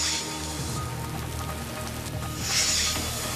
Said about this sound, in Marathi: सुमारे तासभर अधिक काळ हा पाऊस पडत होता आणि या पावसामुळे सर्वत्र पाणी साचले.